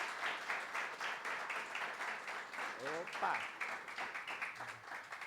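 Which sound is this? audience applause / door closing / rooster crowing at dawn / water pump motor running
audience applause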